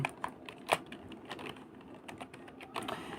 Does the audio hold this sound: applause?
no